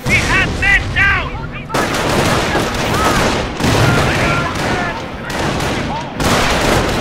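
Battlefield gunfire in Company of Heroes on a hard skirmish, loud and continuous with rattling rifle and machine-gun bursts and heavy booms, while radio-style voices call out over the din.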